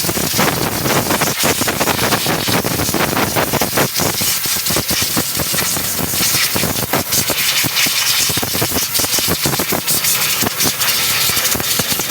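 A Yamaha Aerox v1 scooter engine with a stalling fault runs continuously with a rough, buzzing idle and wind noise hissing across the microphone; loud and close, no speech.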